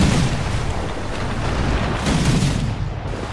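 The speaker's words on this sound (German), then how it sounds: "Aber das war eine volle Breitseite." A ship's cannon broadside fires in the video game Risen 3 as a sustained, loud booming rumble with rolling bursts that swell and fade over a few seconds, with no talk.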